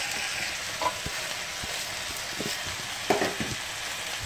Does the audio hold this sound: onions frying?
yes